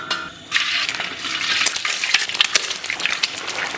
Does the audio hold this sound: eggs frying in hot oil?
yes